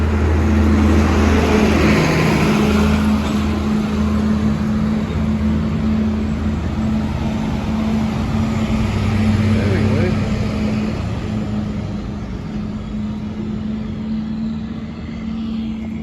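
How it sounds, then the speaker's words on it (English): A tractor rolls down the main street of a small railroad town in Blackwater, Missouri, its engine a steady low drone with a constant hum that holds loud for the whole stretch and fades slightly near the end. "tractor coming down Main Street."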